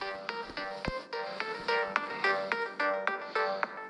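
A mobile phone rings on a forest trail outside, playing a loud, close, rhythmic electronic melody of repeated tonal notes that fills the whole stretch, with no talking.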